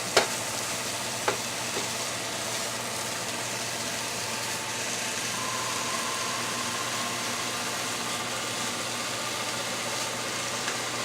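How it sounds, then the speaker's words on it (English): Ground turkey browning in a pan for taco pie, a steady low sizzle running throughout with a couple of sharp spatula scrapes near the start, fairly quiet and without talk. "when you first start cooking raw meat, it's going to stick together and be pretty sticky"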